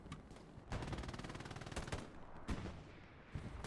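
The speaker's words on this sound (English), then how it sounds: "Shooting the dead body." Rapid bursts of close automatic gunfire and single shots in Hell Let Loose, a World War II shooter match on Utah Beach, pour into a downed body in loud, dense volleys with brief gaps.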